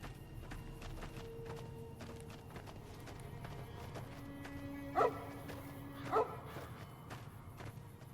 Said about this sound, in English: Look at the puppy dog.